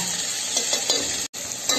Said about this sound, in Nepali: अब यसलाई एकछिन राम्रोसँग यो मसलालाई भुट्नु पर्छ।